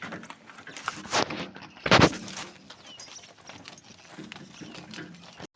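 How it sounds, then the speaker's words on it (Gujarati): A bullock cart rolls slowly along a road, hooves clopping irregularly over a low rattling rumble, with a couple of louder knocks early on. "અમારું બળદ ગાડું હાલ્યું જાય છે ધીમે ધીમે"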